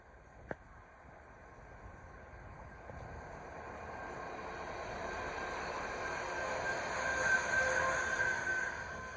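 A Class 69 diesel locomotive, number 69-010, passes through York station on the East Coast Main Line, a steady rolling rumble that swells gradually and peaks near the end, with a single sharp click early on and no talk.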